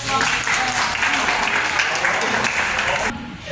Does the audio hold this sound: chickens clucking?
no